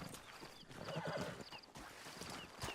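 A horse neighs in a video game, a loud whinny over continuous hoof clip-clop and game ambience, heard alone without talk.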